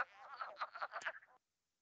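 A frog calls at a pond in spring, a quick run of nasal, duck-like quacking notes that stops abruptly. It sounds faint and isolated, with no voices present.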